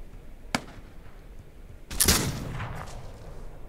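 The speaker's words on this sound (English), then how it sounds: "Look at those rounds pop off the rocks." Gunfire in a war video game, with rounds striking rocks: a sharp single shot, then a louder burst of cracks and impacts trailing into a rumbling decay.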